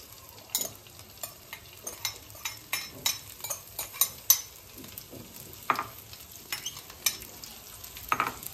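Okra frying in hot oil, with a soft steady sizzle under frequent stirring scrapes and light clinks of a utensil against the pan, close and moderately quiet.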